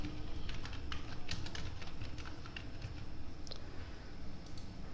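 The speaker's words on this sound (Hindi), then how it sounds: "अब यहाँ पे हमने टाइप किया राजेंद्र शर्मा" Rapid, steady keyboard typing while text goes into an MS Excel spreadsheet cell, a close run of light plastic key clicks over faint background hum, with no talking.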